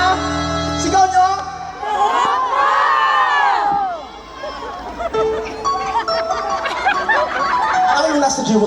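A crowd at a performance in Rome, Italy shouts on cue, a loud burst of mixed voices and cheering that swells and falls, with singing and music around it.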